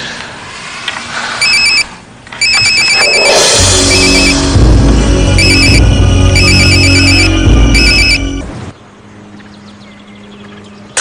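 Telephone ringing unanswered, a loud electronic ring repeating in several bursts over a low rumbling background, then stopping and leaving quieter ambience; no voices.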